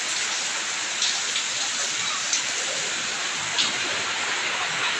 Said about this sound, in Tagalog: Kusuga sa ulan.